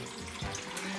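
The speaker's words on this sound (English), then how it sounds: "Let me get some filtered water." Filtered water runs from a tap into a measuring cup in a home kitchen, a steady hissing stream with a low thud partway through.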